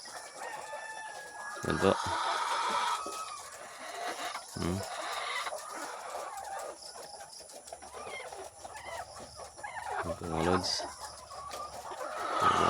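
Pet RTL chickens clucking in intermittent bursts, with occasional crowing-like calls, close by under someone talking.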